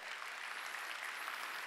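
Church congregation clapping hands during a Sunday worship service, a steady dense wash of applause that holds evenly throughout without any speech.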